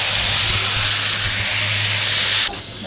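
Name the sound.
vegetables frying in a cooking pot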